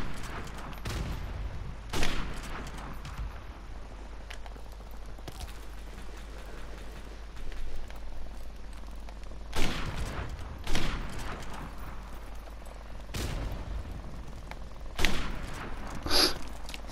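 Gunfire and a thrown grenade burst out in Call of Duty: Modern Warfare as a string of sharp, scattered blasts and shots, each a sudden loud crack or thump standing out from a low, steady background rumble.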